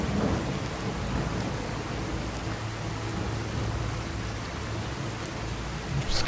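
A nighttime thunderstorm in the video game Fallout 4 brings steady, dense rain hiss with low rumbling thunder underneath, continuous and moderately loud, with no talking.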